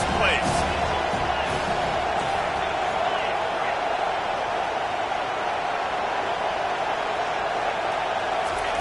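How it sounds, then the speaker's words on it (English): Dense, steady roar of a college football stadium crowd during a third-down play between Missouri and Penn State, a loud continuous wash of cheering with no break from start to finish. "this crowd is tearing the lid off this place"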